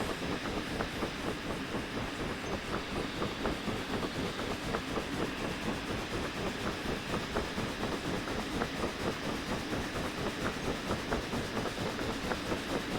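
A steam train in the video game Derail Valley chugs along steadily, its rhythmic clatter and hiss continuous and fairly quiet, with no talking.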